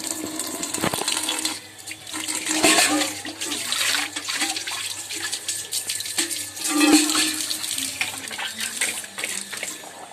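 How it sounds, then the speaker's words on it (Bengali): Tap water pours steadily into a bucket at home, a continuous splashing rush that stays fairly close and even throughout, with a few faint clinks and background sounds mixed in. "জল ভরবো বালতিতে, দেখি জল এসেছে কি করে। এসে গেছে জল।"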